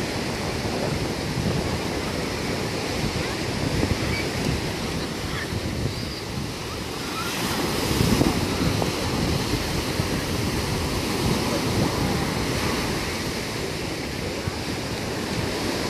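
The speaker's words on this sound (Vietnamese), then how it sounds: "hôm nay cảnh buổi chiều biển Vũng Tàu rất là đẹp quý vị" Steady ocean surf rolling onto the beach at Vung Tau on a calm afternoon, a continuous broad wash of breaking waves with light wind noise and a slight swell in loudness midway.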